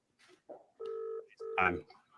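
Touch-tone dialing on a phone while placing a call: two steady electronic tones, each held for about half a second, come close and clear after brief voices.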